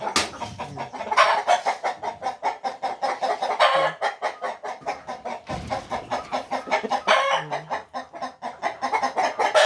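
Shamo chickens of pure Basilan stock, hens and roosters together on a farm, cluck steadily in overlapping bursts close by, with a few louder calls rising over the flock and no talking.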